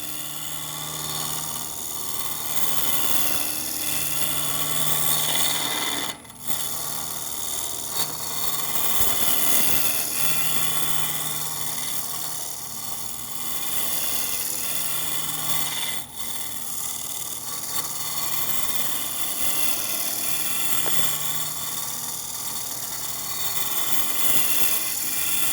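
A wood lathe turning a mortar and pestle while a roughing gouge cuts the spinning blank, a loud continuous rasping hum with steady droning tones and two brief dips as the tool lifts.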